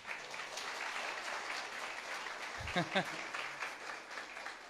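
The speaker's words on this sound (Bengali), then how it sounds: "হাততালি দিয়ে প্রভুকে ধন্যবাদ।" A church congregation at a Bengali Sunday Christian service applauds to thank the Lord, a steady wash of clapping throughout with a preacher's voice briefly cutting in near the middle.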